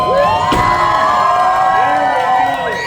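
Loud crowd at an oddities expo stunt show in Raleigh cheering and whooping, with high excited shouts and voices rising and falling over a steady roar of noise close by.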